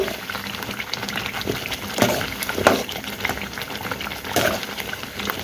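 Garlic cloves dropped into hot oil and stirred while making a Telugu garlic pickle: a steady, close bubbling sizzle with a few louder crackling bursts and stirring scrapes, no talking.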